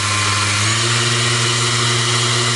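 A Mirka Deros electric sander runs steadily at 6000 rpm, a loud continuous whirring motor hum with a strong tonal drone and airy hiss, close and unbroken throughout.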